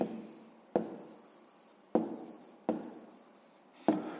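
A pen writes down an answer to a sixth-grade maths exercise with soft, close scratching strokes, marked by several sharper taps as the pen lifts and touches the paper again. The sound is quiet, with no talk.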